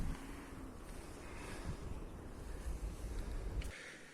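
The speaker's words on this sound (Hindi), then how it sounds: "अभी हवा चलने स्टार्ट हो गई है" Wind sweeps through an apple orchard on a snowy mountainside, a continuous blustery rush with gusts buffeting the microphone and no voices.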